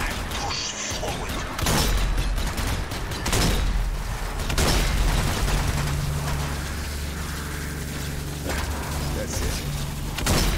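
Gunfire cuts down zombies in Zombie Army 4 in Milan, loud bursts and crashing impacts layered over a thick, continuous battle din, with a few muffled voice fragments in the mix.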